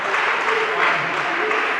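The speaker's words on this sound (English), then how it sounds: "Please keep clapping, Miss Bimbo Benson. Please keep clapping." Continuous clapping from a debate audience greets a guest named Mrs. Bimbo Benson, a close, even wash of applause with no break, a voice faintly audible beneath it.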